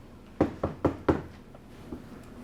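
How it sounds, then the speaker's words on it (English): Knuckles rap on a door in four quick, close knocks followed by a fainter fifth, sharp and distinct against a quiet room with no talking. "knock on the door."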